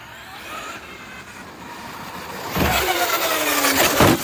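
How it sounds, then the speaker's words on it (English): A Traxxas X-Maxx RC car's electric motor runs with a whirring hum that swells louder and higher in the second half, heard close with no talking. "That motor sounds good, actually. It's quiet."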